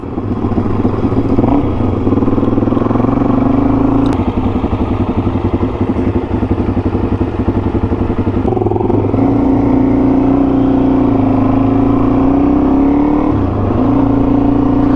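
Suzuki DRZ 400 motorcycle engine droning steadily near and loud throughout a ride, with pitch rising and dipping as the throttle changes and a brief shift around the middle.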